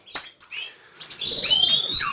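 Captive-bred goldfinches and canaries chirp in an aviary, a few sharp close tweets at first, then a denser chatter of overlapping calls and trills, lively and fairly loud.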